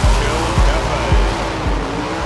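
Loud, rumbling big-block gasser hot rod engines on open headers roar continuously, punctuated by a few deep revving bursts, close and dense.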